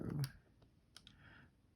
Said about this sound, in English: if you notice that I'm actually typing in the calculator